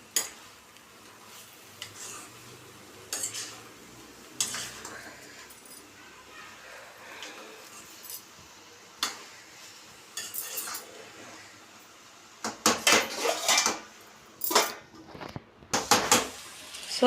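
A spoon scrapes and clinks in a pan as tamarind is mixed into mint chutney, with scattered sharp metallic taps and knocks over a quiet background, busier toward the end.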